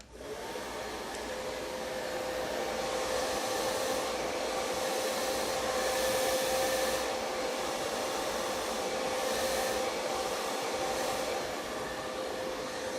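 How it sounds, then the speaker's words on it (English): A hair dryer fitted with a diffuser blows steadily with a loud, continuous whooshing hum and a faint whine, running close by without a break and with no voices. "come back in with a diffuser and a dry"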